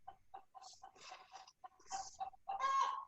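Two backyard hens cluck and burble close by in a series of short, uneven clucks that build into a louder, drawn-out squawk at the end.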